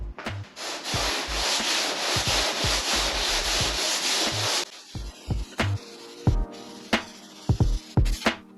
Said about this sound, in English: Well, that's all sanded now.